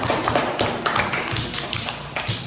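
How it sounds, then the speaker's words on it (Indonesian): Third-grade class of children clapping hands together in a classroom, a dense run of overlapping claps with irregular bursts, fairly close and steady throughout. "Tepuk tangan untuk semuanya kelas 3"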